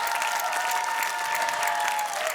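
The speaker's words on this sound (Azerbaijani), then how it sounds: "Vladanın ifasına uyğun alqışlar eşitmək istəyirəm." Dense, steady applause from a concert hall audience after a singer's performance in a televised talent show superfinal, loud and unbroken with a faint tonal hum beneath.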